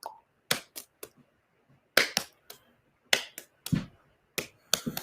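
Sharp hand claps with the percussive rhythm of a juggling step-one pattern, about ten crisp slaps spaced in small groups across five seconds, close and fairly loud with quiet gaps between.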